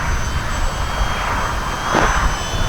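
An E-flite Valiant 2.0 RC plane flies in strong wind, its motor whine blending with steady gusty wind rumble throughout, swelling slightly near the end.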